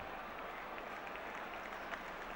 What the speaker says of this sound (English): but the crowd applaud nonetheless